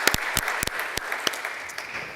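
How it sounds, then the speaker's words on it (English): A conference audience at a cleantech venture event gives a short round of applause. Scattered individual claps ring out sharply over a softer bed of clapping for about two seconds. "Let's give Nina a round of applause and her team for organizing all of this."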